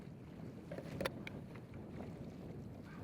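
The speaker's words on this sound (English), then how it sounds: "there is very little talking, just the sound of the wind and the water" Open sea around a paddled whale-hunting boat as it closes on a whale: constant wind rush and water sloshing against the hull, with a few brief knocks near the one-second mark and no voices.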